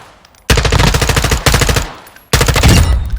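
Bursts of rapid automatic gunfire from a weapon in Modern Warfare II, loud and close, in three sustained volleys separated by short pauses.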